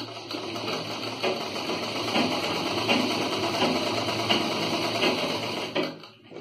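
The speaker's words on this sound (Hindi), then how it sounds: "यहाँ पे एक सिलाई लगाकर इसको आपस में जोड़ देते हैं" A sewing machine stitching bell sleeve fabric, running with a steady fast mechanical whirr and rhythmic needle clatter close by for several seconds before slowing to a stop at the end.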